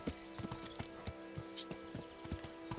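Horse hooves clip-clopping in the game Kingdom Come: Deliverance, a steady rhythmic trot of sharp hoof strikes, faint and distant over a quiet ambient hum.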